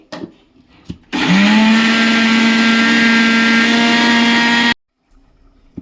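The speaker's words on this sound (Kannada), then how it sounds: "ಇಷ್ಟು ಹಾಕಿ ಇವಾಗ ಗ್ರೈಂಡ್ ಮಾಡ್ತೀನಿ" A kitchen mixer grinder grinding lentils, garlic and water whirs loudly at close range for a few seconds, a steady high-pitched motor whine, then stops abruptly into quiet.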